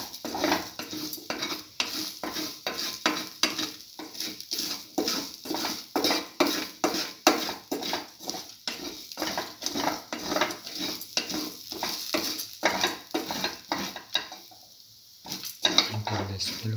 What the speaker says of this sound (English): Saute mix.